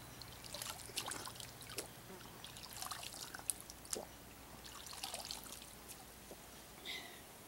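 Water trickles and pours in a clean Canadian stream, soft splashes and dribbles coming in small bursts at close range, fairly quiet.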